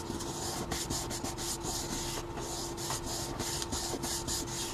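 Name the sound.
rubbing a paper card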